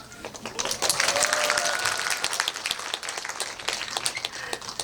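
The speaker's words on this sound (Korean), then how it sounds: "진짜 여러분에게 박수를 드립니다." Audience applause at a film discussion event, a steady wash of clapping from a crowd that swells early and then holds at a moderate level, with scattered individual claps standing out and faint voices underneath.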